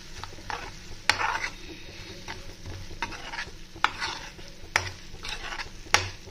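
A mixed vegetable blend for pav bhaji is stirred into hot oil with tomatoes, giving a steady sizzle and fry under repeated scraping strokes of a spoon against the pan, close and continuous with sharp periodic clacks.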